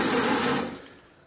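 A kitchen sink tap in a rental flat gushing at strong pressure, loud and close for a moment before the flow shuts off and fades to quiet.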